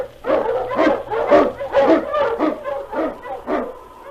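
An Eskimo husky lead dog barks in a radio drama sound effect, a steady run of about eight loud, close barks in even rhythm over a low hum.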